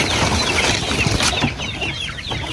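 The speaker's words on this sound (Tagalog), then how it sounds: "Ito na yung ating mga sisiyo." A brood of young chicks peeping and clucking on a small farm, a dense, continuous chorus of close, high chirps with some wing flutter and no talk.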